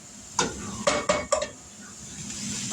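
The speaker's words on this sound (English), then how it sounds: "I'm going to dump this hamburger meat in here." Hamburger meat tumbled into a pot for a Wendy's-style copycat chili, with a few sharp clanks of utensil on pot and a soft sizzle running underneath, close and moderately loud.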